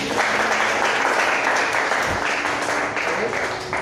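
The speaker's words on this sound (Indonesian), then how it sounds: "Oke, tepuk tangan untuk kita semua." A high school mathematics class applauding together, loud close clapping that fills the room steadily, with some voices mixed in.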